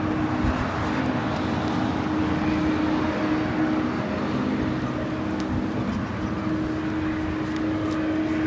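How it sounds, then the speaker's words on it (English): A United Boeing 787-10 Dreamliner arrives from Tokyo Haneda onto runway 24 right at LAX, heard as a steady, moderately distant engine drone with a persistent low hum and no speech. "United Dreamliner on the north side, coming in from Tokyo Haneda, 787-10 Dreamliner, flight 38, next arrival on 24 right."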